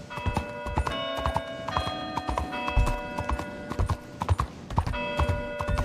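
Video game horse hooves clip-clopping in a steady walking rhythm, close and clear, with occasional tonal game sounds layered over the hoofbeats.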